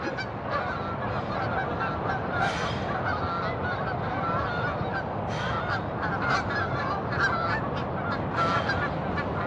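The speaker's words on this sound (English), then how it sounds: "And there's a flock of geese behind me." A flock of geese honks repeatedly outdoors, with overlapping calls at a moderate distance over a steady background of wind or ambient noise and no speech.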